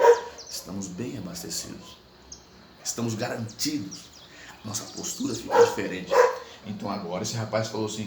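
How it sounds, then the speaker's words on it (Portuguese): A dog barks in short, repeated bursts in the background while someone talks over it continuously. "desculpe o cachorro"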